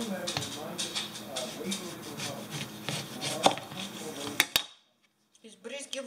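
Rapid, regular knife chops through an onion on a cutting board, crisp thuds repeating steadily, then a brief pause before a few more cuts.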